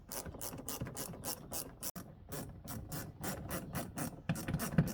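A ratchet tightens two 8mm screws holding the front fender liner on a 2006 BMW E90 330i: a rapid run of crisp pawl clicks in steady bursts, close up and alone, with a brief pause midway.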